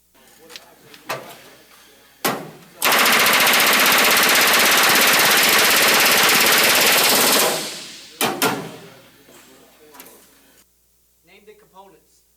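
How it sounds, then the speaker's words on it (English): A rivet gun drives rivets into aircraft metal in a loud, rapid hammering burst lasting about five seconds, framed by shorter bangs and clanks, with a voice speaking briefly toward the end. "So they're going to rivet. I'll show you a brief video here."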